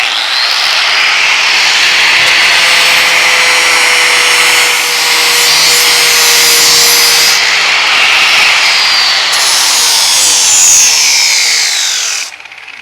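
An angle grinder with a disc shaves down a handmade metal window track for a 1932 Ford door, a loud, steady, continuous whine that holds nearly unbroken for about twelve seconds before cutting off.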